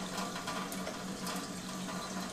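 Water flowing from the gooseneck spout of an Enagic SD501 Kangen water ionizer machine, a steady, continuous splashing stream with a faint low hum, no talking.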